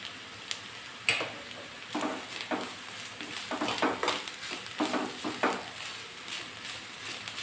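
Onions fry in a pan for Kannada vegetable upsaru, giving a soft sizzle broken by scattered clinks and scrapes of stirring, quiet and close.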